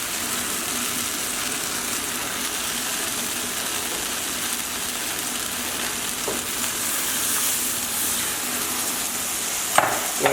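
Chicken pot pie liquids of white cooking wine, chicken demi-glace and water boiling and sizzling in a pan on a high burner, a steady, close hiss with a couple of faint clinks near the end.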